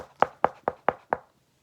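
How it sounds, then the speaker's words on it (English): Five sharp knocks on a door in a steady, even rhythm, fairly close and clear, followed by quiet. "Then, suddenly, there was a knock at the door."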